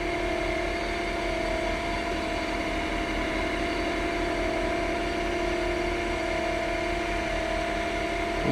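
A lathe spinning at about 3,000 RPM during stone polishing with sanding paste, giving a steady, unbroken mechanical hum with strong tonal whine lines and no pauses throughout.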